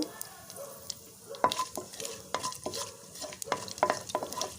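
Mustard seeds and chana dal frying in a hot pan, with a soft sizzle under sharp crackles and several scraping stirs.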